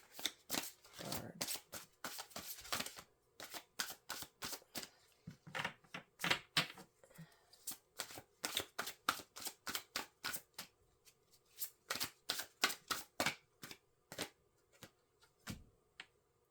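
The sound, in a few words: shuffling Psychic Tarot Oracle cards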